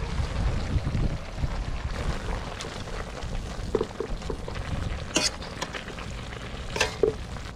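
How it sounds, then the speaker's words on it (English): Cabbage, peppers and carrots fry in a pan with a steady low sizzle, broken by occasional scrapes and light clinks of stirring. "I got to let the cabbage and the peppers and the carrots cook down a little bit first"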